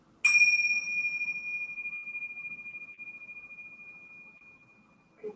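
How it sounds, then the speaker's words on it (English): One bright bell strike opens a yoga class, its ringing tone slowly fading over several seconds with a faint second tap near the end, heard alone in a quiet room. "we will begin class with our bells"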